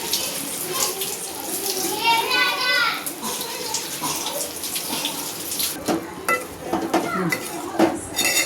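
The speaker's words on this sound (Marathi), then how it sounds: "मी आळूची पानं धुवून घेते. आता माती असते चांगली धुवून घेतली मी जरा." Taro leaves are rinsed under running water in a sink, with splashing, a flowing tap and clinks of a vessel, and someone talks over the washing.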